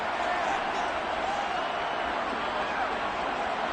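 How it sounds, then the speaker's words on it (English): Football crowd noise during the first quarter of a game: a steady, wide wash of many voices holding at an even level throughout, with no individual voice standing out. "Crowd getting in it a bit already."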